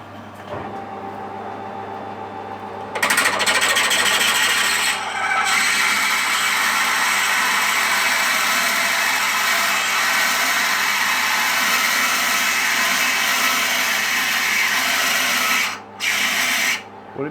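A drill bit grinds into brass with a loud, steady, harsh whine that runs continuously for about fourteen seconds, following a low motor hum, with brief dips near the end.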